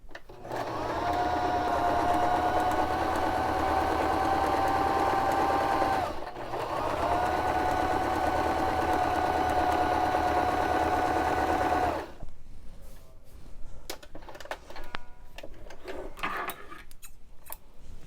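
A Baby Lock Zest sewing machine stitching fabric for flying geese quilt blocks: two long, steady, whirring runs split by a short pause, then quiet handling noises and light rustling once the motor stops.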